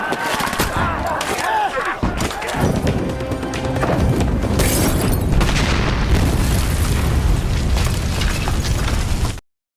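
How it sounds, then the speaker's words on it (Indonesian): A bomb blast destroys an oil-soaked North Korean bunker in a Korean war film, a loud sustained roar of explosion and crashing debris with scattered pops and bursts that runs unbroken for nearly ten seconds before cutting off. "menyiram bunker Korea Utara dengan minyak kemudian meledakkannya dengan bom"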